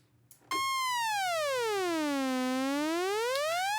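A sustained synthesizer tone from Spectrasonics Omnisphere, its pitch swept slowly down and back up by an LFO in one smooth arc, loud, bright and harmonic-rich, playing alone after a brief quiet start.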